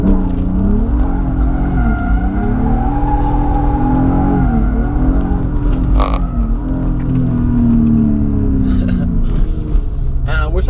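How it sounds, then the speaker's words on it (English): A BMW M3 spins donuts, its engine droning loudly and continuously with rising and falling revs and tire noise throughout, close and dominant for the whole stretch. "we might as well do a few donuts, I guess."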